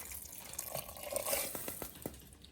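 One cup of water poured into a pressure cooker, a gurgling, splashing stream with small drips and bubbly plops, fairly close and moderately loud.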